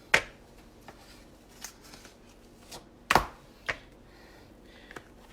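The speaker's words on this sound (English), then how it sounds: "We're chopping the biscuits." A knife chops biscuits into pieces on a cutting board, a few sharp isolated cuts spaced irregularly, two of them loud and close, the rest faint taps.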